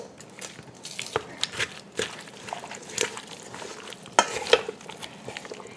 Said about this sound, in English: let's get this stirred up